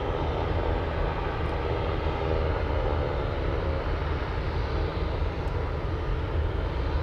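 An 82-year-old vintage propeller aircraft at Anchorage Airport runs its engine, giving a steady, loud, droning roar that holds even throughout.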